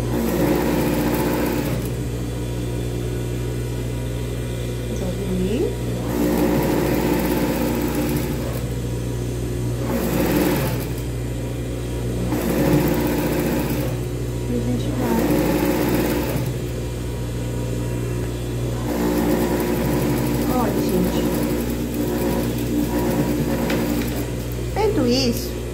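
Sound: sewing machine stitching fabric

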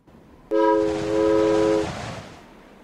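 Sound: train arriving in video game

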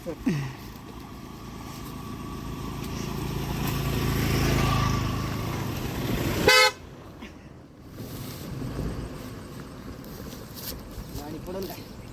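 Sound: vehicle approaching and honking

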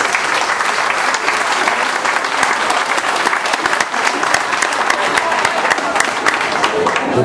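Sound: applause for the young ladies and gentlemen

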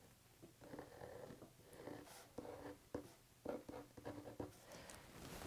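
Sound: drawing a pattern outline on paper

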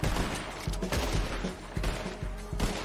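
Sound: gunfire in video game Red Dead Redemption 2 Online

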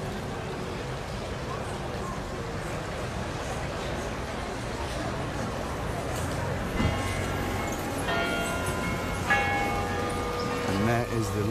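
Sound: church bells ringing on Prinsengracht, Amsterdam

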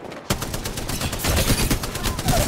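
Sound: gunfire in the video game Apex Legends

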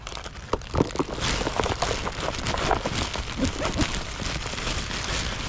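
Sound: rain falling by a canal

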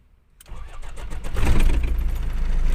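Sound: Kia Sportage engine starting

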